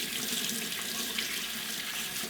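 Cold water runs from a kitchen tap into a stockpot holding chicken bones and onion scraps for broth, a steady, close hiss of pouring water with no pauses.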